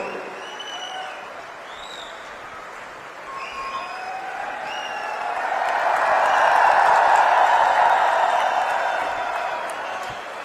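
A large crowd at a Haryana state event applauds to welcome Chief Minister Nayab Saini, the clapping building gradually from a moderate patter to a loud, sustained roar with a few shouts mixed in over about ten seconds.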